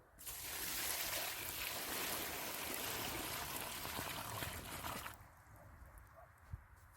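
Water pours steadily from a can onto the soil of a newly planted grapevine seedling for about five seconds, a broad splashing rush, then stops and leaves a few faint drips.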